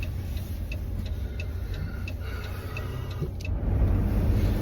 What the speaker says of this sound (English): that car was super close, kind of awkward